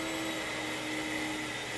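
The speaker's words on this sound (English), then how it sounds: "this is our NutriMill wheat grinder" A NutriMill electric grain mill grinds wheat into bread flour, a steady, loud whooshing whine like a vacuum cleaner that holds constant throughout.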